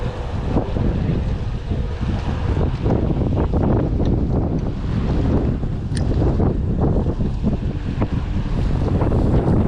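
Strong wind buffets the microphone outdoors by the water near broken bridges in Tampa, Florida, a steady loud roar with gusts and no speech.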